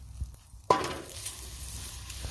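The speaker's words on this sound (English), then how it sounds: "toss them in your oil first and let them sizzle around a little bit" Pepperoncinis drop into hot oil in a pan over an open fire with a sudden clink, then a steady sizzle that carries on close by.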